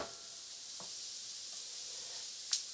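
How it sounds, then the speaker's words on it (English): Shallots sizzle in olive oil in a pan, a steady fine hiss running throughout with a couple of brief soft ticks and one sharper pop near the end. "you can see how the olive oil is frying up the shallots a little bit"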